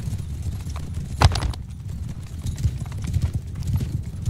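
Horses galloping in battle in Mount & Blade 2 Bannerlord, a dense, continuous clip-clop of many hooves with a sharper thump near the middle, fairly close and steady, no talk.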